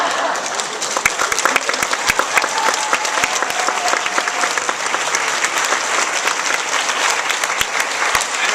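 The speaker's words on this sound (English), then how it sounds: "I don't know if you're applauding because I'm the oldest guy or because you won the bet." A Book Con audience breaks into sustained, dense applause, many hands clapping steadily at full volume with a few sharp, distinct claps standing out, the crowd filling the whole stretch without a break.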